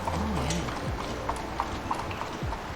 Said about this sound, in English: There was a horse and buggy out there.